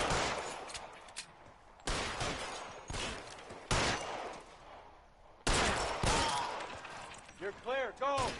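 Covering gunfire in the video game L.A. Noire, heavy bursts of shots fired in bunches with short pauses between them, loud and close, with whistling ricochet sounds near the end.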